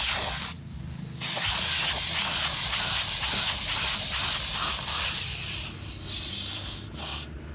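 Sandblaster firing a blast of abrasive grit, loud close hissing spray that cuts off briefly, resumes for several seconds, then drops and sputters near the end; no voices.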